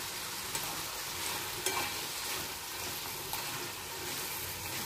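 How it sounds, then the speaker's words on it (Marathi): Chopped vegetables including cabbage fry in oil for momos with a steady close sizzle, broken by a few soft stirring clinks. "तेलावरती चांगल्या अशा आपण फ्राय करून घेऊ भाज्या"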